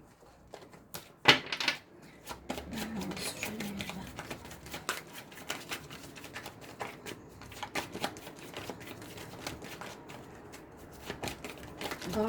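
Playing cards being shuffled and handled close up, a rapid run of riffling flicks and taps with a sharper snap early on, quiet, with no talking.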